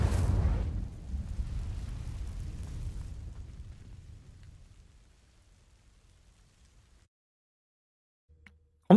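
An Incendio fire spell in Hogwarts Legacy erupts in a loud, sudden burst of roaring flame that crackles and fades over several seconds into near silence, ending with a brief knock.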